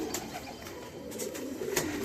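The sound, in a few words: pigeons cooing in a loft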